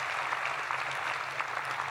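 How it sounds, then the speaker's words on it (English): Crowd at a NASA Marshall rocket center event clapping together, dense continuous applause at steady volume with a faint low hum beneath. "Give yourselves a round of applause"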